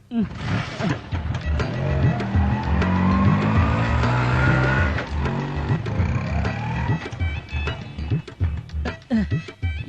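An auto rickshaw drives through a movie scene, its engine droning loud and steady under a layer of street noise, with brief sharp knocks and shifts toward the end.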